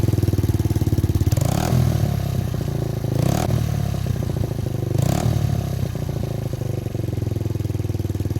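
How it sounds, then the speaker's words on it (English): Suzuki GN125 motorcycle with a reverse cone exhaust idles with a fast, even thumping beat, rising in three short throttle blips spaced a couple of seconds apart, close and steady with no talking. "It's got that deeper, punchier growl now."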